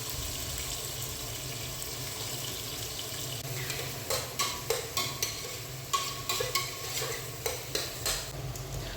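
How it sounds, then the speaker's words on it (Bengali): Chopped onion and garlic frying in a pressure cooker, a steady low sizzle with a run of quick spoon scrapes and stirs against the pot in the second half, close and without talk. "তো প্রেসার কুকারের মধ্যে আমরা পেঁয়াজ কুচি এবং রসুন কুচিগুলা দিয়ে দিলাম। এগুলো আমরা একটু ভেজে নেব।"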